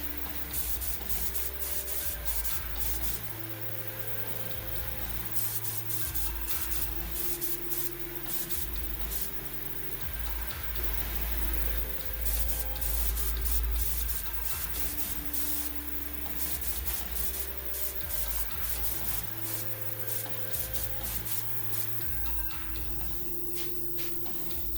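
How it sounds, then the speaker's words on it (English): A spray gun lays lacquer onto a brass instrument set on a stand, with a soft hiss of spraying in repeated bursts over low rumbling and shuffling handling noise, and no talk. "I put the instrument onto a stand so that I can turn it to get the proper angle for a good spray pattern."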